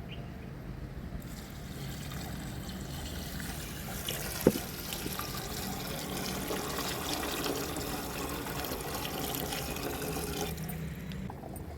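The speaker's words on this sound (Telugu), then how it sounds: "ఇప్పుడైతే 10 గ్లాసులు వాటర్ వేసేసుకుందాం" Water poured from glasses into a pot for rice, a continuous soft splashing trickle running steadily and fairly faint throughout, with one sharp knock near the middle.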